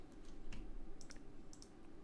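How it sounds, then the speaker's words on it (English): Computer keyboard keys and mouse clicks while working in Altium Designer, a few faint, crisp taps spaced irregularly over a low steady hum. "Click on the shift button on the keyboard"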